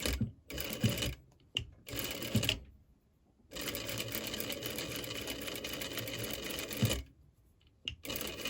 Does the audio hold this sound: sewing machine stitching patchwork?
yes